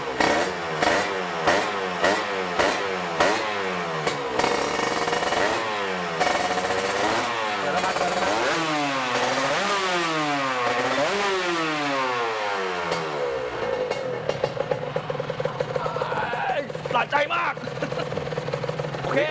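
A motorcycle engine idles and revs, rising and falling in repeated pitch sweeps with a steady rumble underneath, close and fairly loud, while people talk over it.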